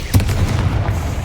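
A Confringo fire spell from the Hogwarts Legacy video game goes off as a sharp explosive pop followed by a brief rumbling burst, loud and close, with no talking.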